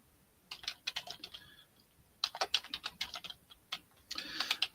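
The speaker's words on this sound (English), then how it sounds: "I'm typing it in here." Quick bursts of typing on a computer keyboard, with clusters of light, close clicking keystrokes separated by short pauses.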